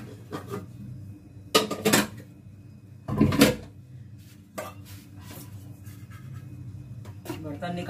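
Metal cooking pots and utensils clatter and clank in a home kitchen while they are taken out. A few sharp bursts rise over someone talking quietly.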